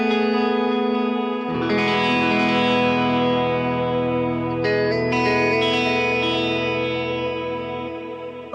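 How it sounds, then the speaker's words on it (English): Electric guitar through the chorus effect of an M-Vave Blackbox at stock settings, sustained shimmering chords with a fresh strum partway through, washy modulation ringing out and slowly fading at the end. "All right, I'm gonna go with chorus."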